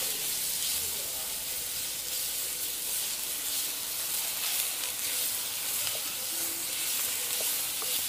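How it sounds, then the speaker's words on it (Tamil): A crushed garlic and ginger paste fries in gingelly oil for a Jaffna-style soya chunk curry, a soft, steady hiss and sizzle heard close and alone. "இப்போ இந்த உள்ளியும் இஞ்சியும் அந்த பச்சை வாசனை போகிற மட்டும் கொஞ்சம் நல்ல எண்ணெயிலேயே வதங்கட்டும்."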